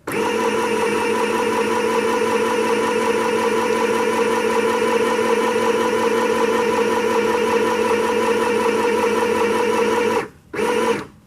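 A sewing machine stitches a sleeve in a steady, close, fast mechanical whir that runs unbroken for about ten seconds, then stops briefly and starts again.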